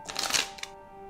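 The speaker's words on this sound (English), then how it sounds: "Maybe shuffle again, Dr. Powell." A deck of playing cards is shuffled in a quick riffle, with a crisp burst of fluttering card sound followed by a short tap, then quiet room tone.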